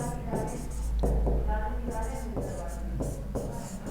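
Marker or chalk scratching across a board as a maths teacher writes out a trigonometry step, in short stroke-like bursts running under steady spoken explanation.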